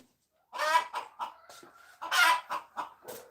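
A hen named Millie squawks and clucks in loud repeated bursts just before laying an egg, two strong rising calls each followed by shorter clucks, close by with no talking.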